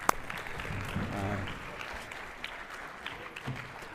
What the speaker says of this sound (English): can we have a round of applause for Guy right here?